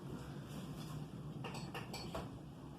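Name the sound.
cutting peeled bananas with a small kitchen knife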